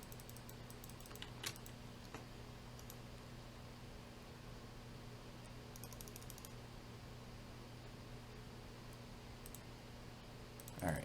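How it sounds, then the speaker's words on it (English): Faint mouse button clicks come in sparse, scattered taps against a steady computer fan hum while someone plays EVE Online, triggering directional scans in a quiet room. "So you can hear me clicking right now. I have my D-scan bound to a mouse button."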